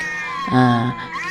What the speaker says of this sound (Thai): นานๆจะได้ยินเสียงแมวมันร้องออกมาจากบ้าน